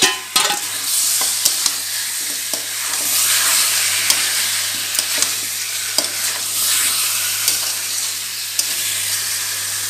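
Fried shankar fish pieces stir-fried in oily masala in a pan, a steady loud sizzle with repeated scraping stirs and clinks throughout, no talk.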